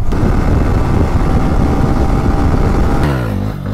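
A motorcycle and a car racing each other, a loud, close, sustained engine roar that holds steady and then shifts in pitch near the end as the revving changes.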